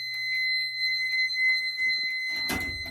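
Demo fire alarm system sounding during an annual test: steady high-pitched alarm tones hold throughout, with a low hum and scattered clatter beneath and a sharp loud burst near the end.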